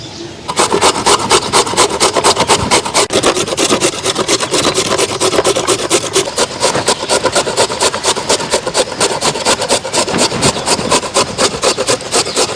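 Beetroot being grated by hand for halwa in a village kitchen, a fast steady rasping scrape repeated continuously and loudly up close, with no talk.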